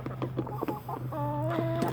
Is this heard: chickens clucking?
yes